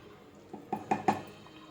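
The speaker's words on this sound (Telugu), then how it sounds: "ఇప్పుడు దీన్ని ఒకసారి కలిపేసేసుకుని మూత పెట్టేసి మగ్గించేసుకుందాం" Metal spoon strikes a cooking pot a few times while meal maker pulao is stirred, then a lid is set on with a light clatter, close and fairly quiet with no talking.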